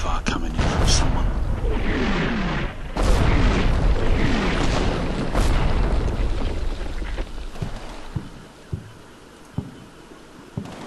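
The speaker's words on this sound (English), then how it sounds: "I've got mortar fire coming in from someone." Incoming mortar rounds in the wargame Combat Mission: a dense roll of loud booms and bursts for the first half, easing into sparser separate thumps and pops toward the end, with a voice talking over parts of it.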